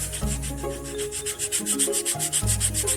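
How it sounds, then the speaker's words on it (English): Rhythmic hand sanding of bamboo, a steady back-and-forth rubbing scrape repeating about every quarter second, close and continuous. "so I just keep on sanding until when it's so smooth"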